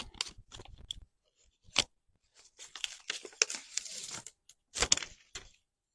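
Backing is peeled off a piece of a tabletop interchangeable sign craft kit, heard as close crackling and tearing bursts with short pauses between them.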